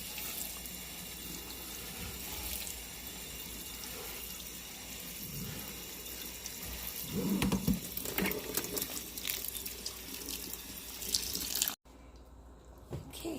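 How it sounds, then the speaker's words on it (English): Pickled mustard greens are rinsed in a colander under a running kitchen tap, producing a steady close wash of splashing water that swells as the greens are moved, then the flow cuts off abruptly near the end. "I'm going to give these a quick rinse"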